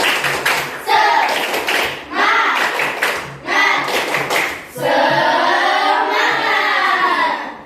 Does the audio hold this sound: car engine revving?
no